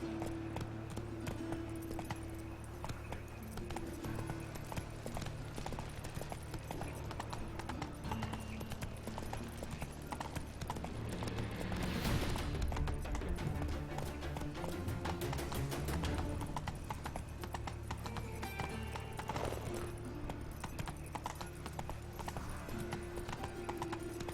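A horse gallops in The Witcher 3 video game, with a steady, rhythmic clip-clop of hooves that runs throughout at moderate volume and a few louder swells midway.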